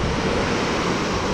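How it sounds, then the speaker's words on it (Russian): Storm waves crashing onto a beach in Crimea, a continuous loud roar of surf mixed with wind buffeting the microphone, no voices. "Смотри, сейчас волной накроет"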